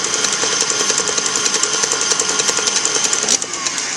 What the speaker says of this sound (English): you use a wire whip attachment on this so that you're incorporating a lot of air